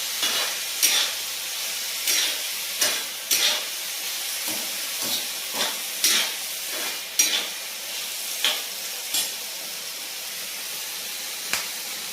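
Potatoes sizzle and fry steadily in an iron pan, with repeated scraping and stirring clatters at irregular intervals over the hiss.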